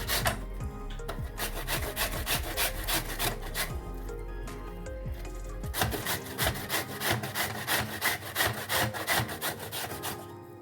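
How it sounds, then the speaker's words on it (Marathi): Raw green mangoes are grated by hand, giving rapid, rhythmic scraping strokes that repeat steadily and close up. "किसून घेते सगळे आंबे."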